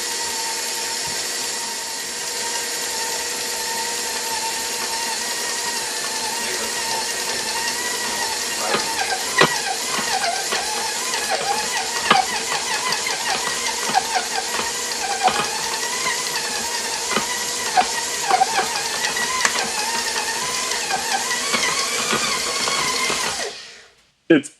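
A food processor or mixer whirs loudly and steadily, working gluten-free apricot tart dough crumbs in a bowl. Its pitch wavers as the crumbs come together, then it stops abruptly near the end.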